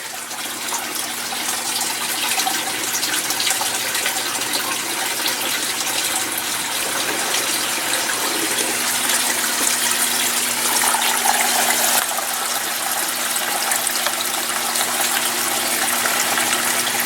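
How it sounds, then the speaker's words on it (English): Steady rushing gush of water from a pump filling an aquaponic grow bed in a home garden, continuous and fairly loud throughout with no talking. "Now I know for a fact every time the bed fills they will get touched with a little bit of water at least."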